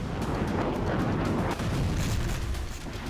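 Dense, continuous rumbling of heavy explosions and artillery fire during a Russian attack on Chasiv Yar, Ukraine, with repeated booms blending into a dull roar.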